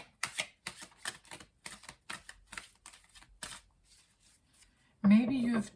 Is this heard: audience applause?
no